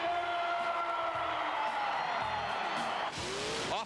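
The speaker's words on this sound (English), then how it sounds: "The biggest applause was saved for who else but Dennis Anderson and the Gravedigger" Arena crowd at Monster Jam in Chicago cheering and whooping for the Gravedigger monster truck, a loud sustained roar of many voices with a rising swell near the end.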